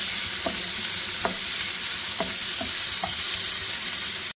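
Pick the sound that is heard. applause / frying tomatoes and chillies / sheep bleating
frying tomatoes and chillies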